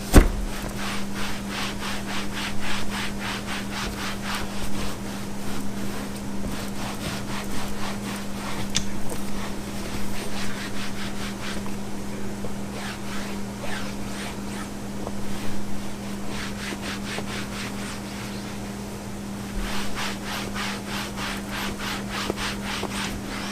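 Leather car seat and armrest being scrubbed with leather cleaner, a steady rhythmic rubbing and brushing that runs continuously up close with small variations in pace, over a constant low hum in the background.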